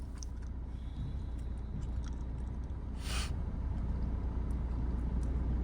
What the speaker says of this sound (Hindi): कार को पीछे जाने दो